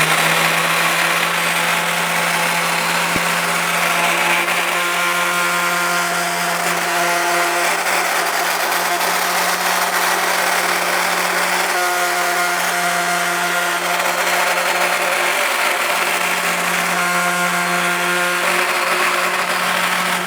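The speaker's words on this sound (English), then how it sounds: "So just slow down, a little more pressure, nice slow back and forth," Steady, continuous abrasive hiss from sandpaper worked slowly back and forth over a forged wheel during polishing, filling the whole stretch evenly over a low constant hum, with no talking.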